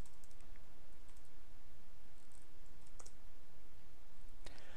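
Password being typed on a computer keyboard during a Palo Alto virtual firewall setup, a quiet scatter of light key clicks in small bursts over faint room hiss, ending in a slightly louder cluster of taps.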